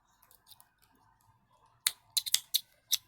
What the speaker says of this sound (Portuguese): Posso cortar esse fio.